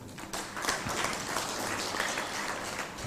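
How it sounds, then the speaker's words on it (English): Audience at the closing ceremony of an ECOSOCC general assembly session giving a round of applause, steady crowd clapping at moderate level in a large hall. "I think you all deserve a round of applause"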